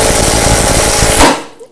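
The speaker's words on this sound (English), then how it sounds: "It's lower ball joint time. Probably can't see shit, but impact driver." An impact driver hammering on a car's lower ball joint during a coilover install on a Mazdaspeed MX5, a loud continuous rattling burst that stops abruptly and falls silent, no talking.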